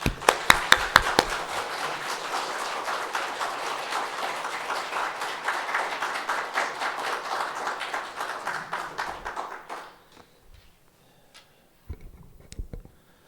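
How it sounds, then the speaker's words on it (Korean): Church congregation clapping to welcome a pastor at a Sunday service: a few loud, close claps open a steady round of applause that fades out near the end, followed by a couple of scattered taps. "뜨겁게 박수로 맞이해주시면 고맙겠습니다"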